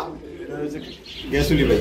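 Pigeons at a pigeon market, giving low, soft coos that thicken into a louder burst near the end, with faint voices in the background.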